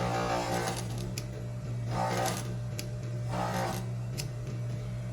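A sewing machine stitching the strap of a silky tank top, running in a steady mechanical whir with three short surges of faster stitching, close and moderately quiet, with no talking.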